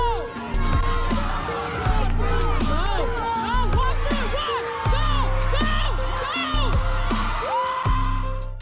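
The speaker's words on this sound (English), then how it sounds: "Just listen to the crowd cheer" A large crowd at a strength competition cheers and whoops loudly and continuously as a woman lifts a 500-pound tire, with excited shouting voices layered throughout.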